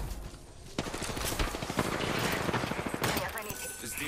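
Rapid automatic gunfire in the battle-royale game Apex Legends rattles off in dense, close bursts for a few seconds, then thins out as a lone shot cracks near the end.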